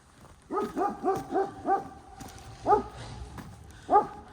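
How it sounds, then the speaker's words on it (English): A dog barks repeatedly at close range, a quick string of five sharp barks followed by two more spaced out after a pause. "What are you barking at?"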